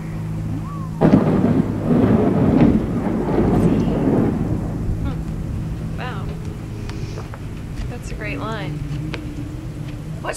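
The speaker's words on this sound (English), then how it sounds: "And this is the shroud of their thunder." Thunder rolls through a storm: a loud, low rumble breaks in early, swells for a few seconds, then fades into a steady background wash while tonal sounds come and go in the later part.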